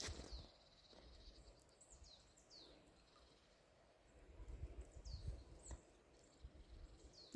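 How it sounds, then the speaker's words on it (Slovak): Thin, high bird calls chirp over and over above a soft, continuous outdoor babble of running water, with no one talking. "ako spievajú vtáky, ako zurčí voda."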